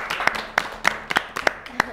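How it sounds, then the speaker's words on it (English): Evenly spaced, sharp claps ring out in a steady rhythm during a children's spelling quiz show, with voices murmuring underneath. "Let's give him a round of applause."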